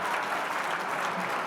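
A RailsConf 2023 conference audience applauds itself during an improv keynote, a full, even wash of clapping from many hands, steady and loud for the whole stretch.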